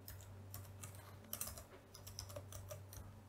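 Quiet, steady computer keyboard typing with irregular clicking keystrokes over a low background hum, nearby with no talking.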